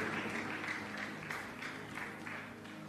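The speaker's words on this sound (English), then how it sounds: "Give Jesus a big, big hand clap." A church congregation claps for Jesus after a sermon greeting, a steady dense wash of many hands sustained at even loudness throughout, with no voices on top.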